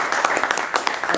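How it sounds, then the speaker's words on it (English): A conference audience gives a speaker a round of applause, a short patter of many hands clapping at moderate volume with a little talk mixed in. "I would like to ask everyone to give you a big applause"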